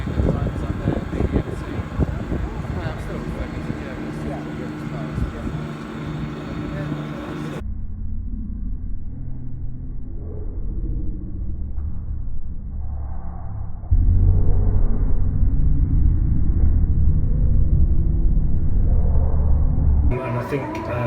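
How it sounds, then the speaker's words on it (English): A two-seater Formula 1 car laps Silverstone, heard as a muffled, steady engine rumble that swells louder partway through, with a commentator talking throughout. "That's the two-seater car they've got going around at the moment with a prize winner."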